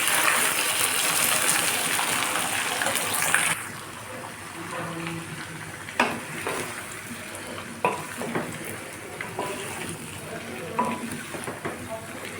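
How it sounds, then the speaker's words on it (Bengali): Mango pieces for a spicy sweet and sour pickle fry in hot oil, giving a bright, loud sizzle at first that settles into a softer crackle broken by several short stirring scrapes. "আমগুলো আমি তেলের সাথে ভেজে নেব।"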